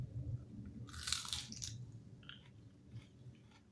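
Crunchy food, eaten alongside steak and lettuce, is bitten and chewed close to the microphone, with one loud crisp crunch followed by softer, scattered chewing and faint crackles.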